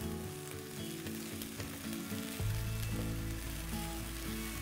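Onion with ginger-garlic paste frying in a pan, a steady loud sizzle that runs throughout with a deeper hum rising about halfway through.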